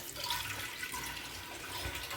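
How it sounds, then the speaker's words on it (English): Water running steadily from a tap into a container while crab is cleaned for Jamaican curry crab, a continuous close hiss and splash with no break. "I'm gonna catch a little bit of water."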